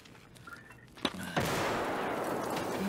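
Gunfire in Escape From Tarkov on the Factory map: a sharp single shot, then a loud sustained burst of rapid fire that keeps roaring to the end.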